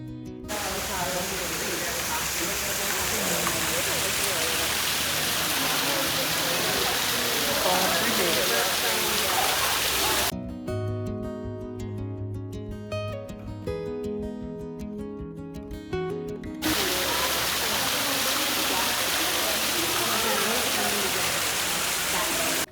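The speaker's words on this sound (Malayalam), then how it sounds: "ആർട്ടിഫിഷ്യലായിട്ട് ഇങ്ങനെ വെള്ളച്ചാട്ടമൊക്കെ ഇങ്ങനെ ഉണ്ടാക്കിയേക്കണത്" Artificial garden waterfall splashing steadily into a fish pond, a loud continuous rushing wash of water; midway the roar gives way briefly to a more tonal section before the full splashing returns.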